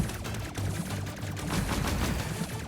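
Weapon fire from an enemy sniper ship in a flying video game: a fast run of sharp, repeated shots over a dense, steady game soundscape with low droning tones.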